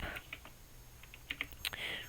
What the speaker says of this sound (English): so you just press the keys on your keyboard